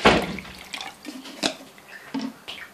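Water poured into a drinking glass: a close splash at the start, then a few light trickles and drips that fade in and out with quiet pauses between them.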